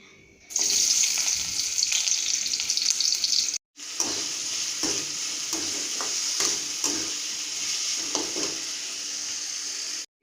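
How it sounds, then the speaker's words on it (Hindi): Rice frying in a pan with potato, tomato, green chilli, ginger, onion and coriander: a loud, steady hiss and sizzle with occasional stirring scrapes, briefly cut off once, heard close with no talk. "और ये देखिए, मेरे चावल बन रहे हैं।"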